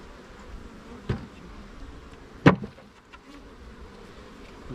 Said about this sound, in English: We got several bees there.